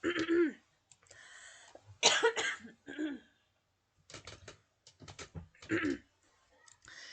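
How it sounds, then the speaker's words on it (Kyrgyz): A person coughs and clears their throat several times in short bursts during a talk on modern kindergarten teaching, with quiet clicking sounds in between. "Баарыбыз эле ошо жөтөлүп жатпайбызбы азыр?"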